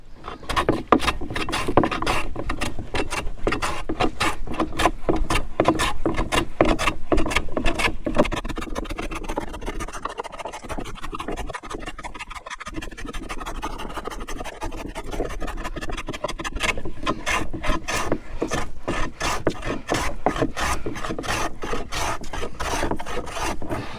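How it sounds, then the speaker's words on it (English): A hand plane shaves a wooden charcuterie board in rapid, regular rasping strokes, close and loud, with a short lull partway through before the steady planing resumes. "Let's get planing."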